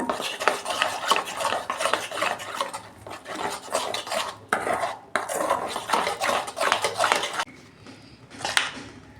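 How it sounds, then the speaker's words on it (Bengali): Batter being mixed with a little water for fried pointed gourd, a utensil scraping and clinking steadily against a bowl in quick repeated strokes, close and fairly loud, with brief pauses near the end. "এইটা অল্প জল দিয়ে আমি গুলে নেব"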